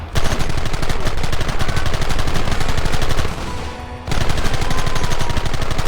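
Rapid bursts of gunfire from the Red Dead Redemption video game on PC, dense and loud throughout, dipping briefly near the end before the volley resumes with no talking.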